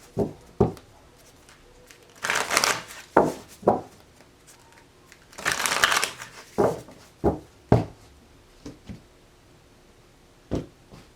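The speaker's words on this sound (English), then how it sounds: "I'm going to do 2 more shuffles." Tarot cards being shuffled by hand, with bursts of riffling and soft slaps in irregular clusters, close and fairly quiet, without talk.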